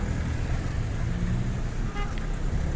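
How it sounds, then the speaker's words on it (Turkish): Heavy road traffic on Cumhuriyet Street in Erzurum makes a dense, continuous roadway roar, with engines close by and a brief horn toot heard partway through. "Çok yoğun bir trafik var."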